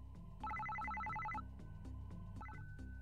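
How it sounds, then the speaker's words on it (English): A cell phone rings in a dramatized audiobook scene, giving a repeating electronic ringtone pattern of rapid bright tones in two bursts over a steady background score, with no talking. "Suddenly, it seemed like Shiori's cell phone started ringing."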